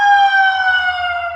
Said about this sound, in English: It's definitely an ambulance